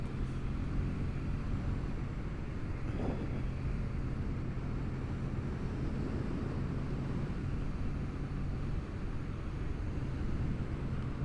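A Kawasaki W800 motorcycle cruises steadily at around 45 to 50 mph and 2,500 to 3,000 RPM, its low engine drone constant and mixed with heavy wind rush, with no talking.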